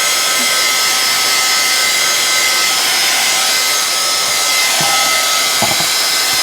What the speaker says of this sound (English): So a heat gun will help speed this process along a little bit.